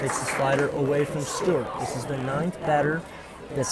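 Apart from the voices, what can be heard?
No everyday noises stand out.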